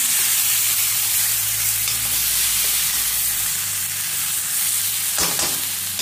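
Masala for a jowar-based dish sizzles steadily as it is sautéed in a pan, a continuous close frying hiss with faint stirring clinks and no talk.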